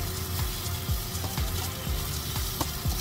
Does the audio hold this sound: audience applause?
no